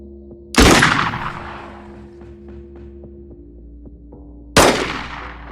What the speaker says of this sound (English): They're just gonna kind of take pot shots now.